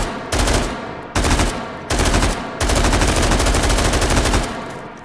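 An AR-18 rifle emptying a full magazine in the VR game H3VR: loud, close bursts of rapid automatic fire in three volleys separated by brief pauses, the last burst running longest.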